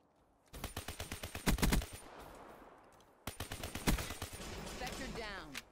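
HG40 submachine gun fire in a video game: rapid bursts of sharp shots in two clusters, loud and close, with a quieter stretch of ambient game noise between them and lingering background sound after.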